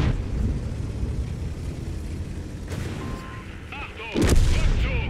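A self-propelled artillery gun fires in a tank video game and strikes another artillery vehicle, producing a heavy booming blast with a loud rumbling impact near the end over steady engine and battle noise.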